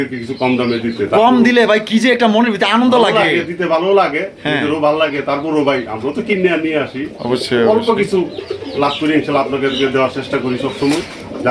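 Pigeons coo at a loft where birds are kept for sale, the soft low calls running beneath a man's near, steady talking for the whole stretch.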